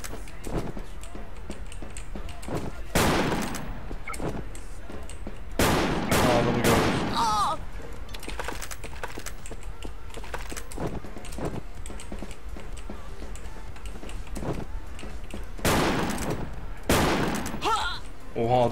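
Video game gunfire cracks out in scattered single shots and short bursts over a constant background din, some louder near blasts standing out among fainter ones.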